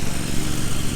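A tractor pulls a 5 ft pasture cutter across hilly southeastern Ohio pasture, its engine a loud, close, steady drone with no talk.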